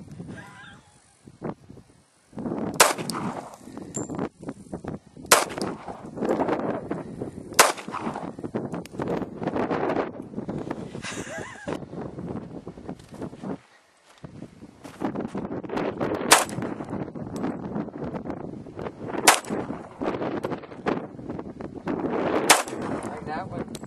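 Gunshots from a firearm fired outdoors during an informal firearms lesson, about eight sharp, loud reports spaced a few seconds apart, with honking geese and murmuring voices in the background.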